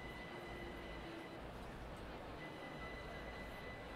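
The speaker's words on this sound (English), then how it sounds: "There is a train." Train rumbling past in a Train Sim World 3 session on the Southeastern High Speed route, a steady broadband roar with a faint whine held throughout at even loudness.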